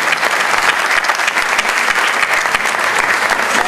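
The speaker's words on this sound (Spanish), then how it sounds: "Aplausos para Nelly." An audience applauds at a gastronomy and culinary event in honour of Nelly: dense, steady clapping from many hands that stays loud and continuous for the whole stretch, with no talk over it.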